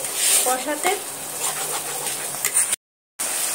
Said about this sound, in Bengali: দিয়ে আমি সমস্ত উপকরণ একইভাবে কষাতে থাকবো।